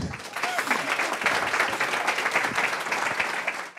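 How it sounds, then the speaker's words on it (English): An audience at a marketing fireside chat applauds Faye and Chris, a full, continuous wash of clapping that holds steady and then cuts off at the end. "Please give Faye and Chris a huge round of applause."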